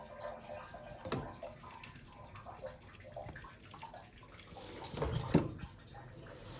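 Water starting to flow from a pump pipe after the machine is switched on: faint, uneven trickling and splashing that grows to a louder gush around the middle of the stretch.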